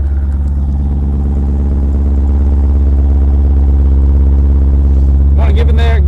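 2016 Jeep SRT idling with an aftermarket exhaust, a loud, steady low rumble that stays even throughout, with a brief higher sound breaking in near the end.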